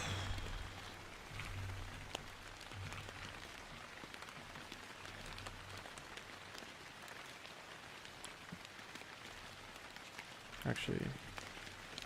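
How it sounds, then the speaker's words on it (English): Rain ambience played in the background of an indoor study and coding session, a soft steady patter of rain on a surface, quiet and continuous, with a person speaking briefly over it. "We're missing the rain sound. I was like, why is it so quiet? There we go. Rain's back."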